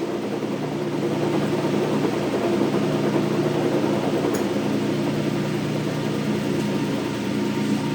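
A Hendey lathe runs at a set speed, a steady dense mechanical drone with a low hum and even whirring throughout, close and continuous with no pauses.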